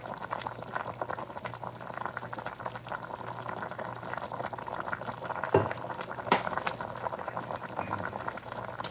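Beef stew bubbles in a pot with a continuous low burble, steady and close, broken by a couple of small knocks against the pot.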